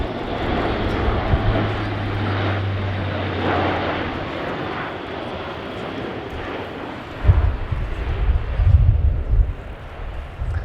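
An Airbus A400M military transport aircraft performs a flying display at RIAT 2019, its turboprop engines giving a loud, steady roar that swells into a deep rumble near the end as it passes close.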